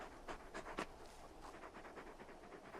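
In Final Fantasy XVI, Torgal, a very large dog, pants quickly and softly in a steady rhythm for a few seconds, close but faint, with no talking.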